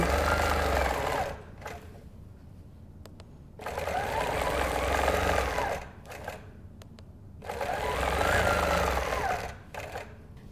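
A sewing machine quilting with a Q'nique hopping foot runs in three rapid, loud stitching bursts separated by short quiet pauses, with a brief tap or two in the gaps and no voices.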